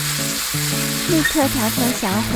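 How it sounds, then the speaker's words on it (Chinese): Tamago tofu pan-frying in a wok gives a continuous sizzle under background music while a person briefly speaks. "将玉子豆腐放进锅里， 等到表面变成浅金色就可以翻面啦"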